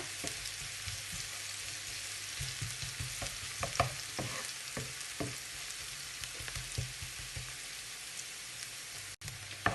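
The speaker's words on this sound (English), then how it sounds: "Make sure that the garlic and the onion don't burn." Garlic and onion fry in a pan for spinach and cheese stuffed bread, giving a steady, soft crackling sizzle broken by light stirring clicks and scrapes, heard close and quietly with no voices.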